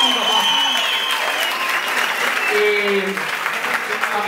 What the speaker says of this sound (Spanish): Un fuerte aplauso para mi papá.